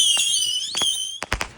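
A firework lets out a high, wavering whistle that rises and falls, broken by a few sharp, close cracks and pops toward the end of the short burst.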